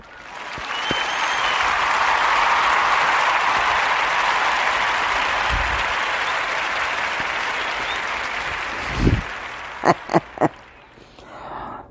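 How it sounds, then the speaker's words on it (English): Sustained audience applause at a motivational talk, a dense, loud wash of clapping that swells early, holds for about eight seconds, then fades, ending with a few isolated sharp claps and thumps. "I wish I could hear you guys say, applaud to this."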